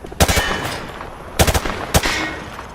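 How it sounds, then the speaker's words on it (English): Rifle fired from the hip in Call of Duty Modern Warfare, three loud, close bursts of rapid automatic gunfire, each a quick cluster of sharp shots separated by brief pauses, with no talking. "He sprayed bullets all over the damn place."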